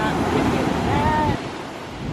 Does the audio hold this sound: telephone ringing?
no